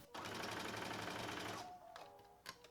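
A sewing machine stitches across fabric to gather ruffles for a beginner sundress, a close, steady mechanical whir lasting about a second and a half before stopping, followed by a few faint clicks and handling sounds.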